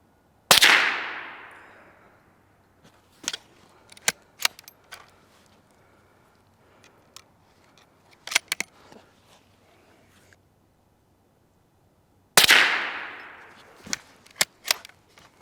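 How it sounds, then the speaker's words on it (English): A Savage Rascal youth rifle is fired offhand at 15 yards: two sharp, loud cracks about twelve seconds apart, each trailed by scattered clicks and clinks of cycling the action. "I am just gonna be shooting this offhand just to see what it can do."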